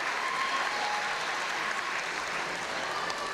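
Crowd at the British Lead Championships, a climbing competition, applauding and cheering its climbers, a steady dense roar of clapping that fills the whole stretch at even loudness with no voices standing out.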